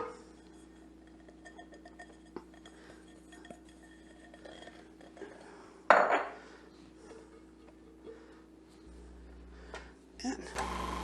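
Spice cookie mixture is stirred in a bowl, the spoon making scattered light clinks against the sides with one louder clatter midway and a few more near the end.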